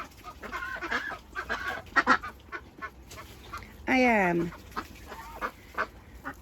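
Chickens in a flock housing clucking in short scattered calls, with a louder drawn-out honk-like squawk midway and a brief spoken word under the birds.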